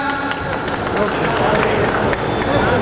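Enthusiastic applause from an audience at a school retirement function, welcoming a teacher; steady, dense clapping over a crowd babble, with an announcer talking over it.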